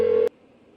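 A single telephone ringback tone from the Persona 4 video game sounds loud and steady for a moment, then cuts off abruptly into near silence while a call goes unanswered.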